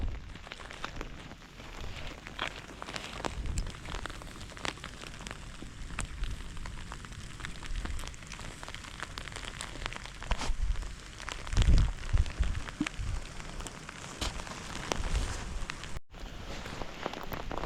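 Heavy outdoor rain downpour during a spring fishing trip, a dense continuous patter of drops striking surfaces that swells in gusts, with occasional nearby thuds and rustles.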